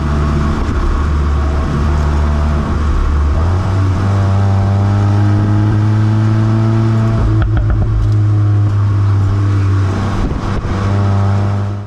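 A VW Golf R MK8 in race mode revs loudly and up close, with the engine note stepping up through several rising pitches and then holding high. A brief burst of crackle sounds midway.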